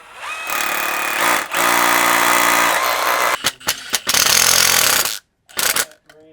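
A power tool drives Tapcon concrete anchors while a new electrical panel is mounted. Loud, close bursts of grinding, hammering drive run for a few seconds, then break into short stop-start pulses near the end.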